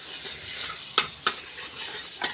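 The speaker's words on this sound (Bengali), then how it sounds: "এবার টমেটোটা দিয়ে এবার নাড়াচাড়া করে নেবো আরেকটু" Tomatoes cook in butter in a frying pan over a low gas flame, a soft sizzle broken by three sharp scraping strokes of a stirring spoon, close up and without talk.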